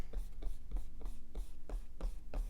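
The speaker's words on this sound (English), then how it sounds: "I'm going to do my best to now erase these markings so they don't come up" Pencil compass markings being erased on paper, a steady back-and-forth rubbing in an even rhythm of about eight strokes, close and moderately loud.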